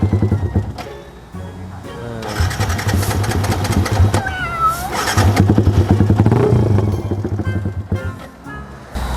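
A 150cc sport motorcycle, Yamaha R15 or Honda CBR150R, with its engine revving loud and close, pitch climbing and falling through several blips, with people talking over it.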